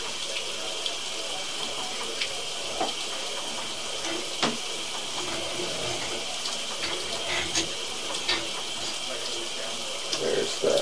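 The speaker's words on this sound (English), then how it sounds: "I do have water flowing, so we can see that it is draining." Water flowing through a sewer drain line during a camera inspection, a steady hiss and trickle with faint splashes, at moderate level with some background noise.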